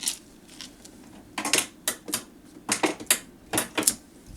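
Craft material for a memory book is cut into lengths with sharp, close snipping clicks that come in quick irregular bursts after a quiet start.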